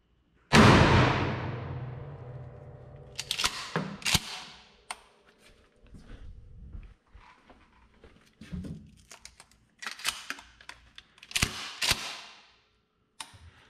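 One loud, sharp shotgun blast of buckshot at a 10-foot target. It is followed by a series of quiet clicks and clacks of handling the weapon.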